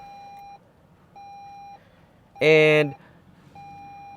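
Push-button start on a 2024 Toyota Land Cruiser LC300 ZX: a steady soft electronic tone repeats in three evenly spaced pulses, broken by one louder, brighter chime from the dash.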